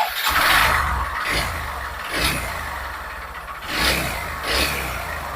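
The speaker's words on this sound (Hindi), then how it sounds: "देखिए मैं सेल्फ लगा रहा हूँ अभी।" A Honda Livo BS4 motorcycle with an engine sound problem is electric-started and runs unevenly, its close mid-pitched engine note surging in repeated uneven pulses without any talking.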